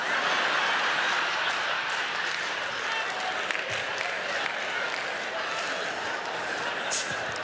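A comedy show audience applauds, a dense, steady roar of clapping with some crowd noise and chuckling mixed in, sustained throughout at an even level.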